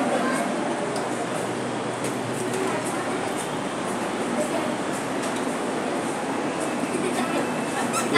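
A Navi Mumbai Metro train rides along from CBD Belapur with a steady, broad rushing rumble and faint rhythmic clicks from inside the carriage, a person talking quietly over it.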